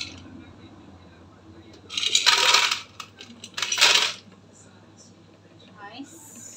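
Ice cubes dropped into a blender jar for a mango milkshake rattle down in two short clattering bursts, close and fairly loud, over a quiet kitchen background.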